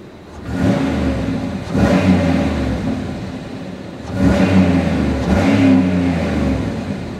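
A 2008 Pontiac Grand Prix GXP V8 revs hard twice through its exhaust, each burst roaring up and holding loud near a 4,000 RPM limiter before easing back, with no talking.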